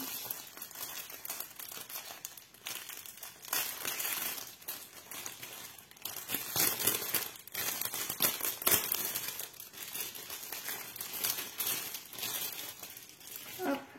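Crinkly plastic packaging of a diamond painting pouch being handled and opened, continuous close rustling and crackling with brighter crinkles midway.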